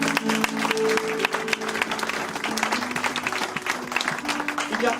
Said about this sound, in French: on peut acclamer Dieu pour maman s'il vous plaît